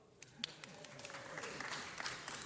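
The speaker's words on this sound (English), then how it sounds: "Feel free to applaud." Applause at a city council meeting, a light scattered patter of clapping from an audience across a large room, fairly faint and steady.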